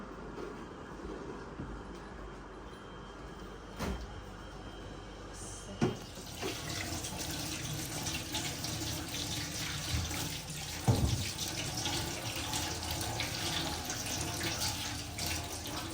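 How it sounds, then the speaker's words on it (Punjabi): Potatoes washed under a running tap in a village home, a steady close rush of water with occasional knocks and splashes and no talking. "ਆਲੂ ਜਿਹੜੇ ਆ ਨਾ ਇਹਨਾਂ ਨੂੰ ਮੈਂ ਸਾਫ਼ ਧੋਵਾਂਗੀ"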